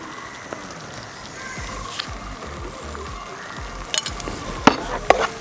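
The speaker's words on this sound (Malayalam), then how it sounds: "ഉപ്പും ചേർത്ത് വീണ്ടും ഒന്നുകൂടെ ഒന്ന് മിക്സ് ചെയ്തിട്ട്" A grape pickle mixture is stirred after salt is added, giving soft scraping and stirring sounds with a few sharper clinks near the end. It is quiet and heard without talk.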